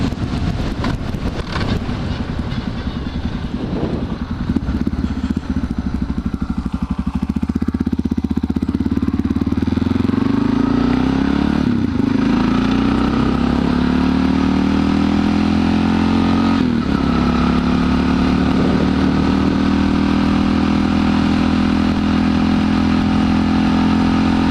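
A Suzuki DR650 supermoto motorcycle engine idles steadily and close up for a long stretch, a loud continuous low rumble with slight rises in pitch and some wind noise early on.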